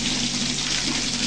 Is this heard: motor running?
no